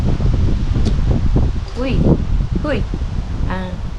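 Strong outdoor wind rushes and buffets the microphone steadily while a person keeps talking over the noise.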